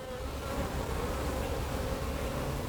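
Honeybees swarm around an opened beehive during an inspection, filling the air with a dense, steady, close-up buzz that holds at an even level throughout without any voices.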